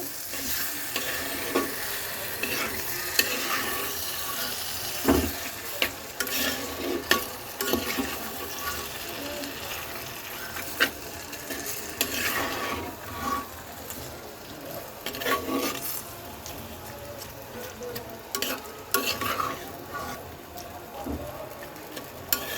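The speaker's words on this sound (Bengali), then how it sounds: "এখন সব কিছু একসাথে সুন্দর করে মিক্সড করে দেব এই আমি মিক্সড করে দিচ্ছি" Taro leaves (kochu shak) being stirred in a pan, giving a steady scraping and sizzling texture with irregular clinks and scrapes throughout, close and moderately loud, with no speech.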